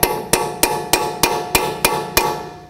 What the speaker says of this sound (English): with a small hammer, tap on the end of the stud